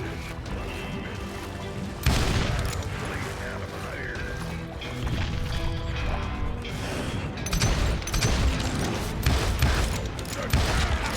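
Pistol gunfire in the Western shooter game Call of Juarez Gunslinger: loud, rapid bursts of shots and mechanical clacks over a busy, rumbling game soundscape.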